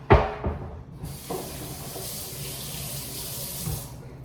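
A tap opens after a clunk and water runs steadily into a sink, a close, loud hissing rush that holds evenly for several seconds with no speech.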